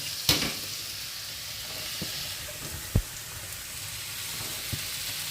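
Carrots and beans stir-frying in a pan for chicken fried rice, a soft steady sizzle broken by a few sharp clinks and knocks of stirring.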